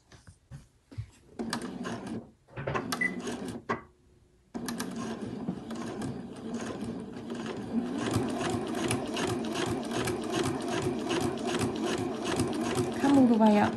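A sewing machine stitches a fabric crown, starting at the straight bottom edge with a short back stitch, running in brief bursts then a steady fast whir, close and loud, with a voice speaking over it.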